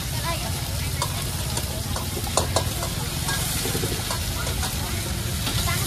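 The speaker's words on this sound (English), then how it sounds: "Frying up the goodness right there." Onions and food frying at a riverside street food stall in Siem Reap, a steady dense sizzle with occasional stirring clatter and faint crowd noise behind it.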